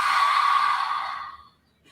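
A long, loud breath is pushed out through a constricted throat in a yoga-style Darth Vader imitation, a steady rushing hiss that fades over about a second and a half, ending with a faint start of the next inhale.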